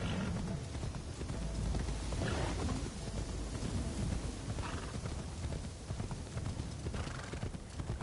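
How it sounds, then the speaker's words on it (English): Hooves clip-clop steadily as a horse is ridden in Assassin's Creed Shadows, a continuous close rhythmic gait with a brief whinny and stormy weather rumbling in the background. "just a nice horse ride back to the hideout"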